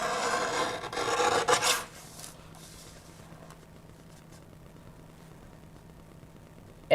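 Cardstock edges being trimmed for a handmade card, a rasping, filing-like scrape for about two seconds at close range, then near-silence with faint background hum.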